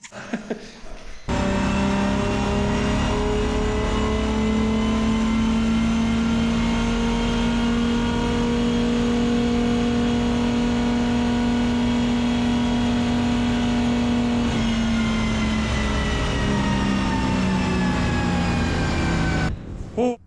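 A Nissan car engine on a dyno holds a loud, sustained high-rpm drone with a slowly rising pitch, running steadily for many seconds before dropping off at the end.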